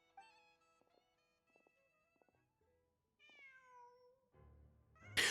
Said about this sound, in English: Why is the cat there?